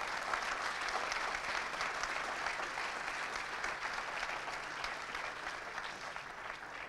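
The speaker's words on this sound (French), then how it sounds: "On peut applaudir, je pense, pour..." An audience at a conference day on agriculture and climate change applauds after a talk, with sustained even clapping from a sizeable crowd heard at a slight distance, steady throughout and gently tapering near the end.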